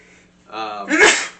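A single loud, close sneeze, with a short wheezy intake building to a sharp burst, in a quiet room.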